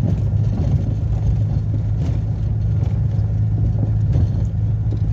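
A Renault 14 engine runs steadily while the car is driven, giving a continuous low rumble from inside the cabin with no talking.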